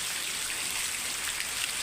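Soft, steady patter of rain falling, an even hiss of many drops without pauses, fairly quiet and with no one speaking.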